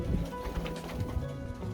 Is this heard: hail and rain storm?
no